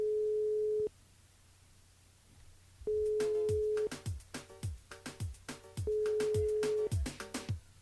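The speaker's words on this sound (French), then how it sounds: "on appelle Laetitia du côté de Saint-Jean ce matin" Outgoing phone call ringback tone: three long steady single-pitch tones with pauses between, while a radio host's talk and faint background sound run underneath in a live morning broadcast from Saint-Jean.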